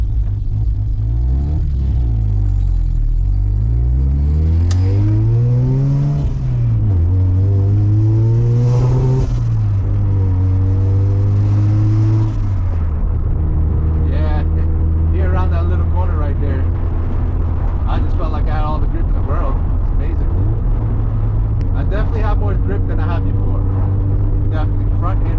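Mazda RX7 with a camber street and track setup driving over a rough construction road, its engine droning loud and close with rising and falling revs and rumbling from the road surface, under steady talk from the driver.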